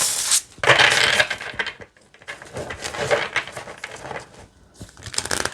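A large tarot deck being shuffled by hand produces bursts of dense papery riffling and crisp card flutter in several loud waves, with short pauses between them.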